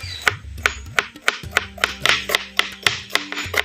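A knife chops bitter gourd into small pieces on a board in a home kitchen, about a dozen crisp, evenly spaced strikes close by, with no talking.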